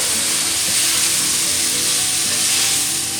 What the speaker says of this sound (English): So now we can put the tofu in there. So give it a good stir of everything.